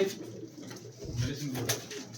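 Pigeons kept in cages cooing softly with low rolling calls, nearby and steady, while a person talks over them.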